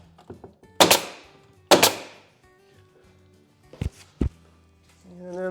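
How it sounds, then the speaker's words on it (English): Pin nailer firing pins into a cabinet front frame while assembling an RTA vanity combination cabinet: two loud, sharp pops about a second apart, followed later by two fainter snaps, with quiet handling noise in between. "So I'll show you how I do it with the pin gun."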